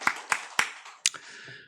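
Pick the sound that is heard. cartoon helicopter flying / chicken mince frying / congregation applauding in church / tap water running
congregation applauding in church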